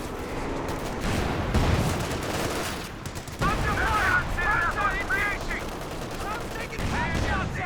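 Artillery barrage in the real-time strategy game Company of Heroes 2, a dense, continuous roll of shell blasts and gunfire rumbling steadily throughout, with a voice talking over parts of it.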